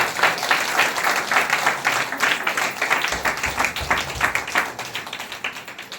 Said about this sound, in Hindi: जोरदार ताली बजाकर प्रभु का धन्यवाद करेंगे।